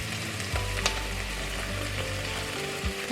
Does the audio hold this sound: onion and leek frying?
yes